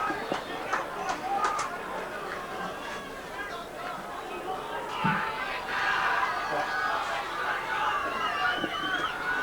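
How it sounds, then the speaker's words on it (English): A Donnybrook cheer squad and crowd at a 2001 SWFL League football grand final make a steady, moderately distant hubbub of chatter and shouts that swells toward the end, with a commentator talking over it. "The Donnybrook cheer squad's getting some noise"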